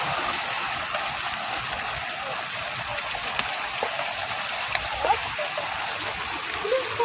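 Deep flood water rushes by in a steady, broad hiss of flow and splashing that stays constant throughout, with no clear voices.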